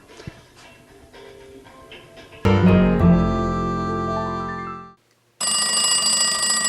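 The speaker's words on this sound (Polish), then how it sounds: "Panie Krzysztofie, może pan tam odbierze ten telefon teraz, tak? Dzwoni." A telephone rings in a Polish television studio show, a loud electronic ring that starts abruptly after quiet murmuring, cuts off briefly, then resumes as a bright repeating tone.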